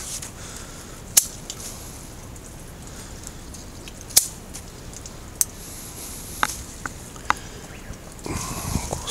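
Pruning shears snip Japanese snowball shrub branches after flowering, a few sharp, crisp cuts spaced several seconds apart, with faint rustling of leaves and twigs between them.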